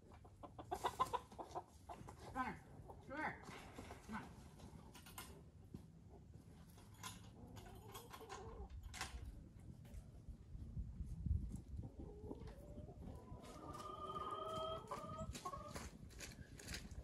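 Chickens cluck and call at intervals around a pheasant run outdoors, with scattered soft clucks and a few louder squawks over quiet background rustling; no one speaks.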